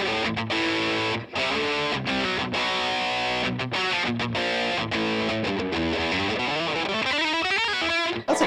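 Electric guitar through a Mesa Boogie Mark V amp switched to 10 watts plays a steady run of distorted riffs and chords, with short palm-muted stabs and sliding notes toward the end, loud and with no talking.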